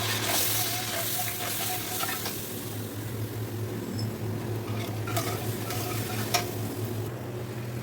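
Whisked sour yogurt hits a hot tempering of cinnamon and mace for a chicken roast, giving a steady, close sizzle with light spoon-stirring clinks and scrapes and no voices.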